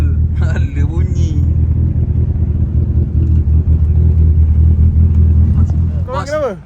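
A car's engine sounds troubled while driving up toward Genting, giving a steady, heavy low rumble throughout, with voices speaking briefly at the start and end.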